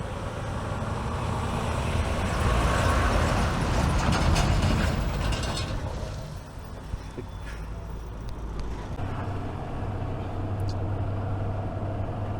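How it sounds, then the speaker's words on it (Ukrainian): A car drives onto a ferry bound for southern Norway near Stavanger, with a steady close mechanical rumble and clanking from the ramp and vehicle deck that eases off midway and then continues more quietly. "Так, товариства, заїжджаємо на паром."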